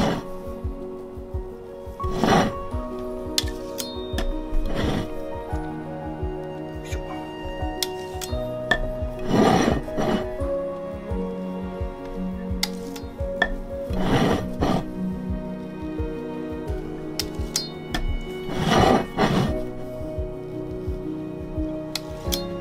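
Palette knife spreading and scraping cream across a homemade Christmas cake, with soft repeated swipes and occasional light clinks of metal against the plate, recurring every few seconds at close range.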